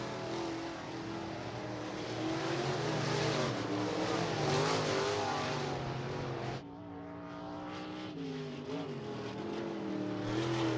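B-Mod race cars roar around Rapid Speedway during a heat race, a continuous loud engine drone that swells and shifts pitch as the pack passes, then drops slightly after a sudden cut.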